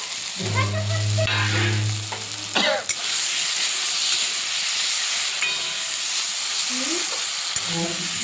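Fried potatoes tipped into a pan of frying spices hiss and sizzle steadily, with stirring scrapes and a sharp clatter early on; the sizzle stays loud and close throughout.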